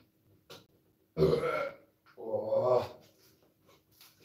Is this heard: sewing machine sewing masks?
no